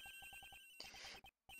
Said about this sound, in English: It's a phone call, Mind if I take this?